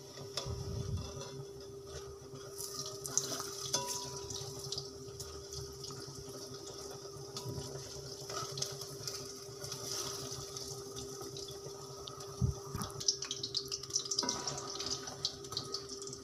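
Urad dal pakoras fry in oil over a low flame, giving a faint, steady bubbling sizzle with a few soft clinks and scrapes.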